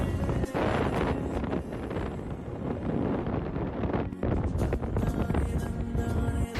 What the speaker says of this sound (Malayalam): മഴക്കാലം തുടങ്ങിയ പിന്നെ നല്ല തണുത്ത കാറ്റും